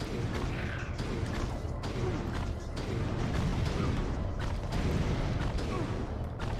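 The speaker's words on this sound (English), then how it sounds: "Let's see if the explosion of the Bomb Glove is like big enough to get that guy." Blasts from the Bomb Glove in Ratchet & Clank (2002), a steady run of rumbling explosive booms and mechanical clatter layered over dense game sound, continuous and loud throughout.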